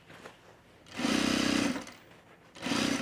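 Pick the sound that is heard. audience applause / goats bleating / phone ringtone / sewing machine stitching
sewing machine stitching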